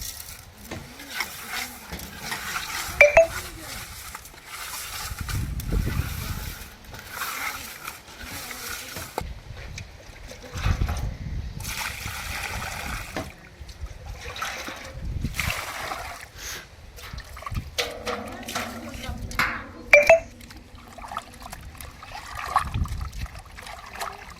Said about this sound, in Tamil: மீனை நல்லா ஆஞ்சு எடுத்துகிட்டு வந்தாச்சு இப்போ வந்து உப்பு போட்டு உலசிக்கணும்